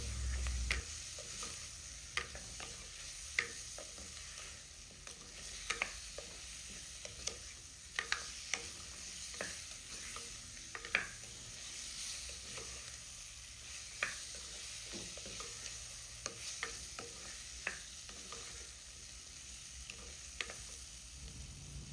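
Cut potatoes are stirred in a pan for a dried sprats curry, a quiet continuous sizzle punctuated by irregular soft clicks and scrapes of the spoon, close but faint.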